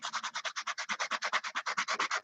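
Rapid back-and-forth scraping of sandpaper by hand, about ten strokes per second, close and steady with no voices.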